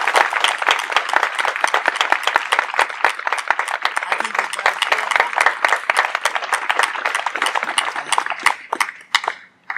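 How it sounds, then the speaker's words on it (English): Mourners at a memorial service give a round of applause, dense, loud and close clapping that runs steadily before thinning out and fading near the end, with voices mixed in. "if we could just give a round of applause for these three giants"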